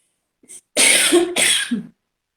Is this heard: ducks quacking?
no